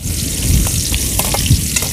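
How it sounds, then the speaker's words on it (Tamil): Onions sizzle steadily in hot oil while cooking a village-style duck curry, a close, continuous crackle with a few soft stirring scrapes. "வெங்காயம் நல்லா வதங்கிட்டு இருக்குங்க"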